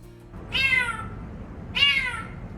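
A rescued kitten meows twice, about a second apart, each cry clear and close, rising then falling, over a low background hum.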